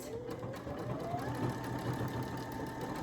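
A Brother Essence VM5200 sewing machine hums quietly and steadily as it stitches a small quilting star along a seam line, a faint continuous whirr with no talk.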